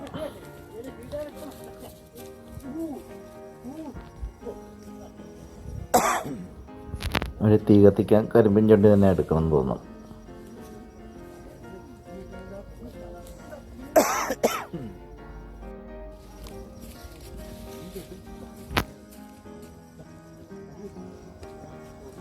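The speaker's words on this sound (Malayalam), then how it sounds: "ചുമത്തുണ്ട്" A person coughs in cold weather at a jaggery-making site in Marayoor: a short burst, then a longer run of harsh coughs and a later single fit, with conversation continuing between them.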